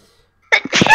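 After a moment of near silence, one person sneezes sharply, close and loud.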